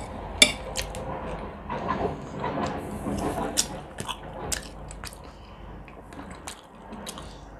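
Crunchy bites and wet chewing of a fresh cucumber during a mukbang with pork knuckle, close and loud, with a sharp crunch at the start and irregular munching that continues throughout.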